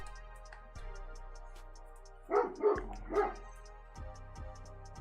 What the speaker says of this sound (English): God, I hate the fucking dog.